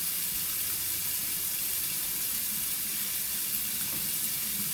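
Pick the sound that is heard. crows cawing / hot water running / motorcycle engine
hot water running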